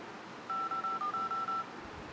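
An Android 4.4.3 dialer on a Galaxy Grand i9082 sounds a quick series of about eight short, clear keypad tones, evenly spaced and heard up close in a quiet room.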